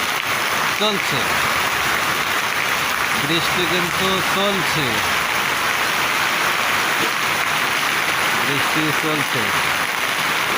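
Rain falls steadily in a continuous, loud hiss that lasts throughout, while someone talks intermittently over it.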